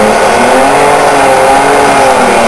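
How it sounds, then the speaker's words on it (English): A 1960s Jimmy Jet toy fighter jet by Deluxe Reading revs its engine noise, a loud, continuous, close whirring drone with a slightly wavering pitch throughout. "We'll fire up the engines a little more."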